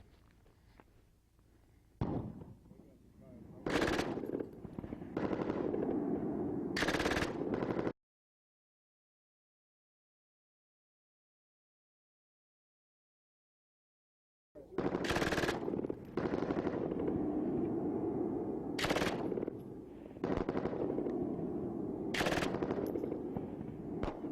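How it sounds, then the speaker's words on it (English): Loud bursts of automatic fire from a belt-fed machine gun firing from an open bolt, several rapid strings separated by pauses, with a long silent gap midway before more sustained bursts. "Fires from an open bolt, so we're all ready to go."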